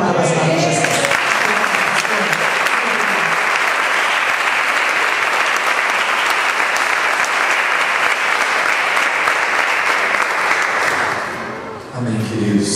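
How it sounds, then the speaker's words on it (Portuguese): A church congregation applauds loudly and continuously for over ten seconds, with a voice briefly heard at the start and again as the clapping fades at the end. "Aplauda bastante, Jesus."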